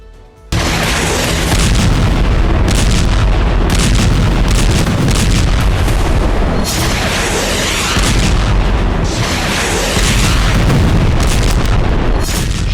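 Explosions from Israeli strikes on Hezbollah positions in Lebanon, a dense barrage of heavy booms and rumbling blasts that runs continuously and loudly after a brief quiet opening.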